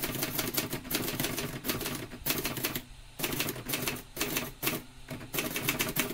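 A typewriter being typed on at a steady pace, with dense, continuous clacking keystrokes and brief pauses, heard up close without talk.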